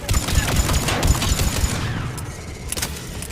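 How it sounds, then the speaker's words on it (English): Geth anti-aircraft guns in Mass Effect 3 fire in a rapid, loud fusillade of heavy booming shots, dense at first and then thinning into a few scattered bursts. "The Geth's anti-aircraft guns are up ahead."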